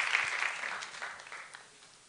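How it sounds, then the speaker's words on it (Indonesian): A church congregation claps together at a GBI worship service, a burst of moderately loud applause that tapers off over two seconds. "tepuk tangan buat Tuhan kita,"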